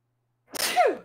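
A single sharp human sneeze bursts out after a stretch of silence, close and fairly loud, with a breathy onset and a falling voiced tail.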